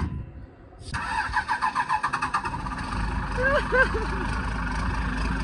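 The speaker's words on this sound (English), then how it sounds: "Oh, it sounds like a tractor." A leaking diesel truck engine cranks and catches, settling into a loud, rough, tractor-like idle with a rhythmic clatter, while a voice talks over it.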